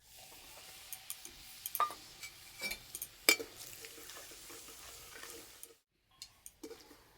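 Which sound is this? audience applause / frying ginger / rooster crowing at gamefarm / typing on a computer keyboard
frying ginger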